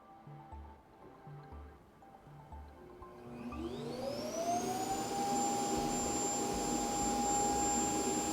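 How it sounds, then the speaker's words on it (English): eufy Clean X8 Pro robot vacuum's dock emptying dust into its bin, starting with a rising whine that climbs to a loud steady roar and hum and holds there, close by with no talk. "it's actually emptying all the dust from the robot itself into the dust collecting bin"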